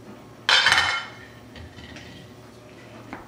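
A spoon stirs beef stew in a crock pot set on high, giving one short, loud clatter and scrape against the pot before the sound drops to a quiet kitchen background.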